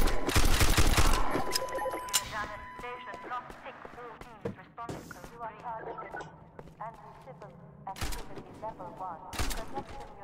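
Gunfire in Half-Life 2 Cinematic Mod, sharp rapid bursts of shots up close at the start, then scattered cracks and impacts amid game noise, with someone talking through much of it.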